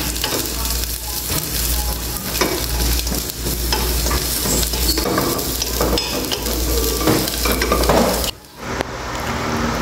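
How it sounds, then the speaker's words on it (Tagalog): Onion sautéing with fried garlic in a pan, a loud steady sizzle and crackle with stirring scrapes, continuous and close, then a sudden drop near the end. "igisa na rin natin ang onion. Ayan, kasi naluto na yung ating fried garlic."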